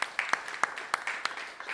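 A few scattered hand claps from a demoparty audience, sparse and uneven, close by and fairly quiet, like a small group clapping briefly.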